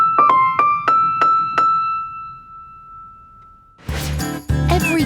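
Six piano keys are struck one after another, each hammer hitting the strings to make a bright ringing note that fades slowly. After a pause a louder, denser cluster of piano notes follows.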